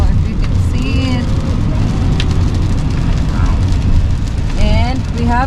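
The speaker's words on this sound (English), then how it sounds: "it's pouring like crazy here. It's raining." Heavy rain pours down steadily in Pahrump, Nevada, a dense continuous hiss filling the scene, with voices faintly audible beneath the downpour.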